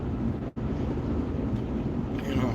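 Strong wind roars steadily against the microphone, a dense low rumble with gusts throughout and one brief dropout near the start.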